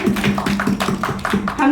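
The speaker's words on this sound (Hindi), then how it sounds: "जोरदार तालियां हो जाए।" Brisk, rhythmic hand clapping at a Mangal Geet gathering, close and steady, with voices singing or talking along underneath.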